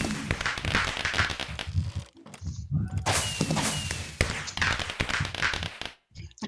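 Pink firework rockets bursting in Minecraft, a string of loud crackling explosions and pops with two brief near-silent gaps, close and busy, with voices faintly in the background.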